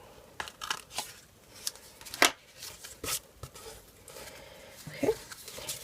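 Paper cardstock being trimmed with scissors, giving a few short, close snipping and crinkling sounds separated by quiet gaps.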